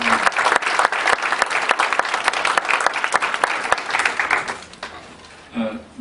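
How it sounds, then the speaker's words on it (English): Conference audience on drug policy gives honoured congressmen a round of applause, loud dense clapping from a crowd close by, tapering off near the end as a voice begins. "Give them a round of applause."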